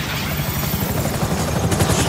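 Helicopters in Grand Theft Auto V, during a raid, thrum loudly and steadily with a dense rotor chop and roar filling the whole moment, with no talk over it.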